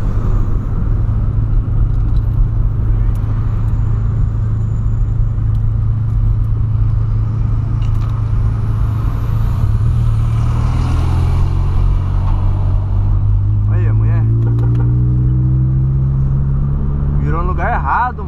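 Lowered VW Polo cruising on an asphalt road, a steady low engine and tyre rumble throughout with a rising rev toward the end, and voices talking over it.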